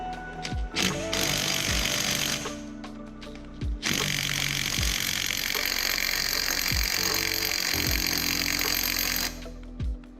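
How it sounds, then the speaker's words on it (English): Cordless impact wrench hammering at a reverse-threaded rear sprocket nut on a Sportster chopper, loud close rattling bursts that start and stop repeatedly over steady motor whine in a workshop. "Let's see if a little cordless impact can take care of this."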